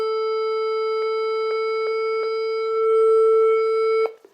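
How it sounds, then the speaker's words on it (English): A steady electronic A440 tuning reference tone holds one pitch, with faint clicks ticking periodically beneath it, then stops abruptly near the end. "Here's A440."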